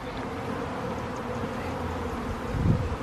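A honeybee swarm hums around a swarm trap near a tree, a dense, steady buzzing close by with a few louder passes of individual bees.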